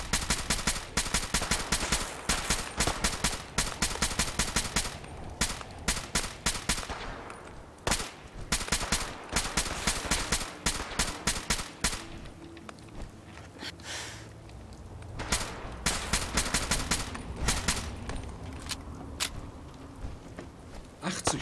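Rapid rifle fire from Fallout 4 cracks in dense bursts, with a few brief pauses between volleys, loud and sustained.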